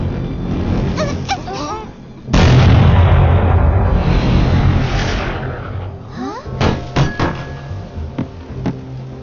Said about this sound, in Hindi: वो ग्रेनेड ठीक चालक दल के बीच में ही जाकर फटा